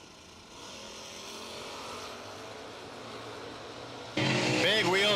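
Bracket drag racing cars launch as a pair down the strip, a steady engine roar that swells, then jumps to a louder, rising howl near the end, with a track announcer's voice over it.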